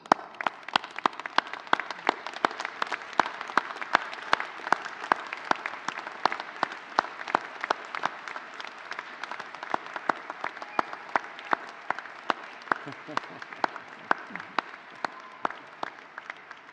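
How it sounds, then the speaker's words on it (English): Loud, dense applause from a large audience at a university graduation ceremony, with many overlapping claps forming a steady roar that holds strong and continuous for the whole stretch. "join me in a huge round of applause to say thank you"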